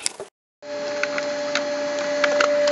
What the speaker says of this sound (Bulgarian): Сега ще взем към принтера, за да може да го принтираме.